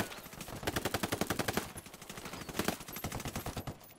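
Rapid automatic gunfire in the Ghost Recon video game, two long bursts of evenly spaced shots with a brief lull between, loud and close with no talk over it.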